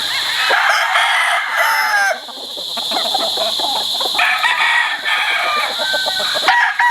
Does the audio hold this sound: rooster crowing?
yes